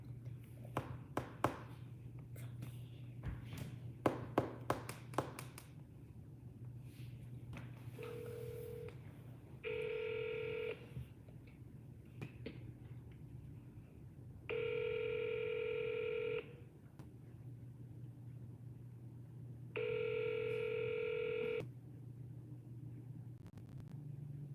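A phone dialing to call a realtor: a quick string of keypad taps and DTMF beeps, then several long, evenly spaced ringback tones, faint against a low steady hum.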